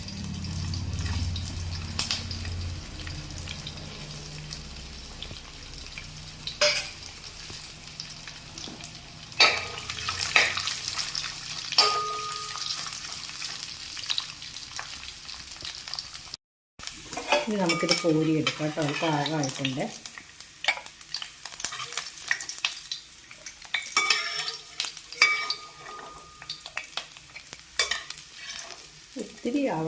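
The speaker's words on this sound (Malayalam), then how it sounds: "നമുക്ക് ഈ നാളികേരം ഉണ്ടല്ലോ അതൊന്ന് വറുത്ത് മാറ്റി വയ്ക്കാം" Grated coconut being fried in a pan with a little oil, with soft frying hiss and intermittent stirring and scraping. A person speaks over it in the second half.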